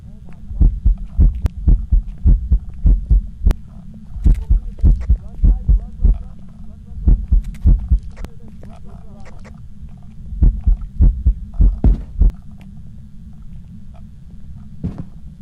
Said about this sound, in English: especially if you hear your heartbeat, the ghost is on the prowl